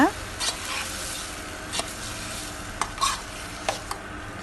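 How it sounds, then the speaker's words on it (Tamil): Chicken for a Chettinad pepper chicken fry sizzles steadily in a pan while a utensil stirs it, with occasional scraping clinks over the constant frying hiss. "சிக்கன் சேர்த்துட்டு நல்லா கிளறி விட்டுக்கோங்க."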